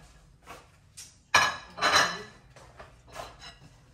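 Ceramic plates knock and clink together as they are set out and handled, a few sharp separate chinks with quiet gaps between them, close by.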